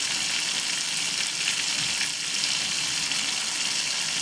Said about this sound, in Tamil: கொஞ்சம் பட்டர் போட்டு அத ஊறுக வச்சிருக்கோம் ஊறுக வச்சிட்டு அதல வந்து ஒரு துண்டு பட்டையும் கொஞ்சம் கிராம்பும் போட்டு ஒரு 2 நிமிஷம் ஃப்ரை பண்ணிடுங்க